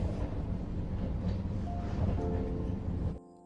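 A train runs steadily with a low rumbling roar and a faint tonal hum, close and continuous for about three seconds before dropping away to near quiet.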